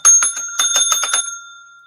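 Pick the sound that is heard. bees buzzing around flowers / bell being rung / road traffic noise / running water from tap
bell being rung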